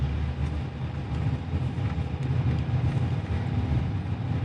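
2021 Jeep Grand Cherokee L Overland cruising with four people aboard, a steady low road rumble and drone of engine and tires filling the cabin at an even level throughout.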